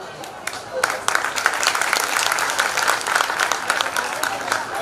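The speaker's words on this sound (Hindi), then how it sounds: "एक बार जरा पीछे तक जोरदार बजाइएगा तालियां" Sustained audience applause at a kavi sammelan, a Hindi poetry gathering, with dense steady clapping from a full hall filling the whole stretch, building after the first second and holding loud throughout.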